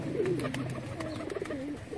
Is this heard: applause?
no